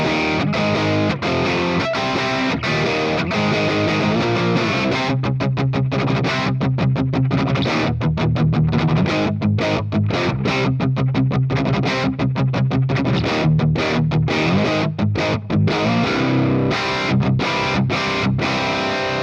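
Crunchy distorted electric guitar tone from a Quad Cortex amp capture with a Mars TV impulse response and tight plate reverb, playing chords and riffs with short choppy stops, loud and continuous with no talking.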